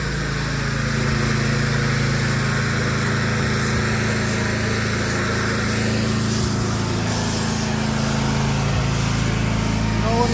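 A pressure washer's engine runs at turned-down revs while cleaning a dirty driveway, holding a steady, continuous drone close by with no breaks or changes in pitch.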